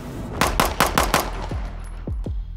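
Rapid pistol fire from Staccato handguns on a shooting range drill: a quick string of five or six sharp, loud shots, close by, followed by ringing echoes and a couple of further cracks.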